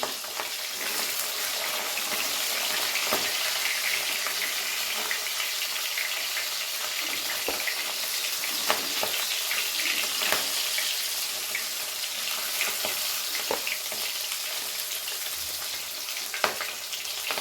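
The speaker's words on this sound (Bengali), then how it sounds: "উল্টে পাল্টে এইভাবে কাটাগুলোকে ভেজে নিচ্ছি" Bhetki fish bones frying in oil in a pan as they are turned over: a steady, broad hiss of frying with occasional faint clicks, fairly quiet, with no talking.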